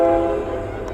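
A passing train sounds a loud, sustained horn near a baseball field's backstop, one steady chord fading slightly over its length.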